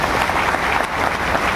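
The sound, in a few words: applause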